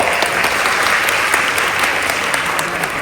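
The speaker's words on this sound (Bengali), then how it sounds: "ওর জন্য একটা বড় একটা হাতে তালি দাও" Audience clapping in a hall during a motivational talk, a steady dense burst of applause filling the whole stretch at close range with no voices over it.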